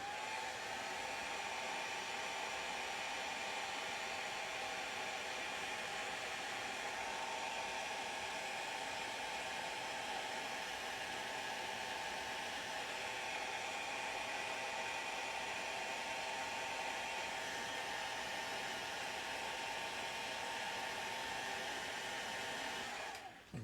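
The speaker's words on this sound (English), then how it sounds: "this is not a base conducive to streaming because of the amount of blow drying it requires" A hair dryer blows steadily and loudly for the whole stretch, drying the painted base of a tabletop miniature, with no talking over it.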